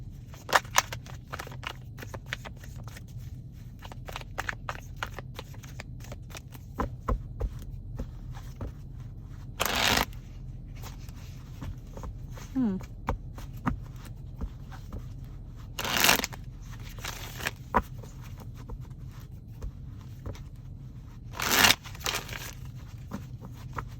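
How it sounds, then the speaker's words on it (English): Tarot cards being shuffled in several brisk bursts, each a short crisp riffle, with quieter handling and rustling between them, close and with no talking. "Let's get 3 shuffles."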